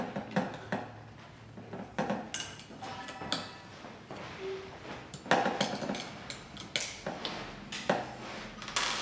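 Small metal knobs on an aluminum Neewer DSLR camera rig are tightened by hand, making scattered close clicks, taps and light metallic knocks at an irregular pace.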